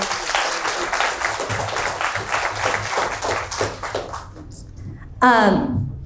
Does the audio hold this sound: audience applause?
yes